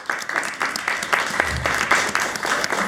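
An audience at a Creole-language book fair in Montreal applauds a group of authors, with a steady, moderately loud patter of hand claps filling the room.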